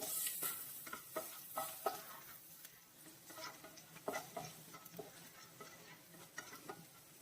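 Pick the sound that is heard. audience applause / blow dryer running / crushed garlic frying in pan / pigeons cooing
crushed garlic frying in pan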